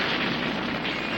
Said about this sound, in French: Mais Doc, cette explosion va attirer le shérif Hardtack.